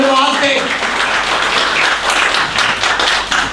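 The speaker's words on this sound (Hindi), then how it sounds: "आइए ताली बजाकर हम परमेश्वर को धन्यवाद दें।" A church congregation claps together in thanks to God during a service, a dense, loud, steady burst of applause throughout.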